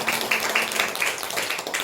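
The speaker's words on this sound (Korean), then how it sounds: "우리 여성교회에서 박수 한번 하겠습니다." A church congregation claps together for the women's group at a Parents' Sunday service, producing a brief, steady patter of many hands at a moderate distance with no voices over it.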